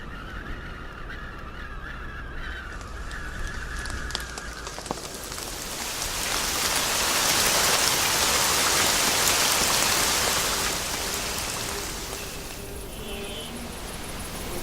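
Rain falls in a steady hiss that swells louder midway, with goose-like honking calls early on and no talk.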